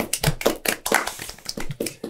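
A small studio group claps for a guest's parents on a Brazilian podcast, with several quick bursts of handclaps at close range, uneven and lively, and no talking.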